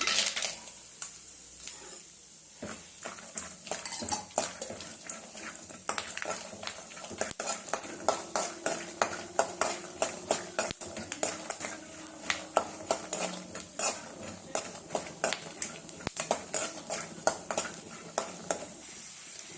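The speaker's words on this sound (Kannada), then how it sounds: "ಎಣ್ಣೆ ಹಾಕ್ಕೊತಾ ಇದ್ದೀನಿ ಸಾಸಿವೆ ಕಡಲೆಕಾಯಿ ಬೀಜ" Mustard seeds and peanuts fry in oil in a pan while a metal spoon stirs, producing repeated close scraping clinks and taps over a faint sizzle, growing busier and more rhythmic toward the end.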